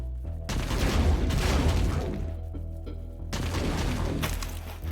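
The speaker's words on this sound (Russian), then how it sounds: "фишка в том, что они, все эти выстрелы упираются в барьер, как вы видите" Gunfire in Warhammer 40,000: Inquisitor – Martyr hits a barrier as a dense, continuous roar of rapid shots and low booms, loud and sustained, with a short lull before another burst.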